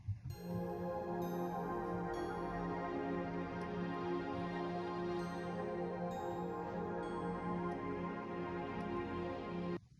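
A layered synth pad stack, an Omnisphere texture blended with the Heavenly Bell Pad preset from Expand, rings with bell-like shimmer over a warm sustained bed, steady and full for the whole stretch with no voices.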